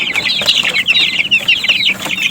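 Merawang village chickens cluck continuously in a small backyard coop, a close, lively chorus of overlapping clucks with a few soft thuds underneath.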